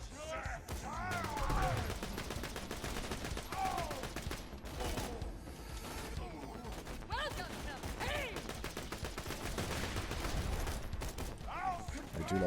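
Rapid gunfire in a video game, shots fired through a hole, crackling in dense bursts across the whole stretch, loud and close over busy game effects and occasional talk.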